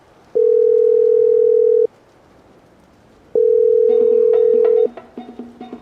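A telephone ringback tone on an outgoing call: two long, steady, loud tones separated by a silent pause, followed by a faint jumble of softer sounds.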